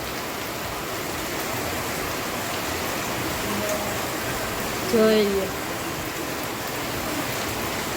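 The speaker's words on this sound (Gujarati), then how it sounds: "વરસાદ ધોધમાર વરસાદ આવે છે" Heavy monsoon rain pours steadily outside a temple, a dense unbroken hiss filling the whole stretch, with a person speaking briefly over it.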